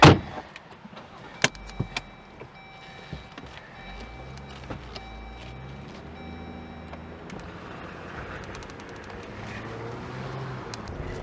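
Someone climbs into a Jeep Wrangler: a door thunks and there is shuffling and seat and interior handling, with a few sharp clicks and a faint tonal whine. The sounds are close, and no one speaks.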